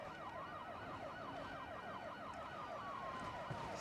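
Police car sirens wail in steady, overlapping up-and-down sweeps during a highway police chase in the driving game BeamNG.drive, loud and continuous with road noise underneath.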